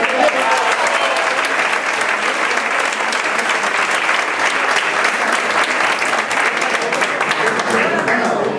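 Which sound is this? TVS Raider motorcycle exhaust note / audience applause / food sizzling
audience applause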